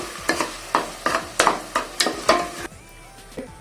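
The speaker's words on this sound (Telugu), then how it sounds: "ఇలా మసాలా వేసి బాగా ఫ్రై చేసుకోవాలండి." Masala frying in a pan for Rayalaseema-style chicken curry, with a steady sizzle broken by regular scraping stirs of a spatula, about eight close, rhythmic strokes before the stirring stops.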